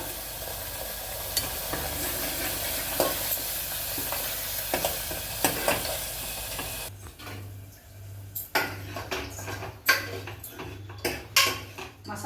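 Ground masala sautéed and stirred in a pan for a coconut milk rice and chenna gravy, with steady sizzling at first, then sparser scraping and clinking of a spoon against the pan, close and moderately loud, no talking.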